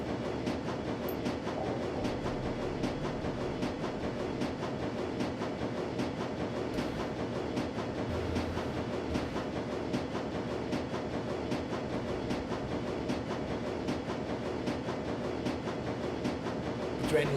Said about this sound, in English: The train lurches forward again, picks up speed, and begins treading its way beneath Berlin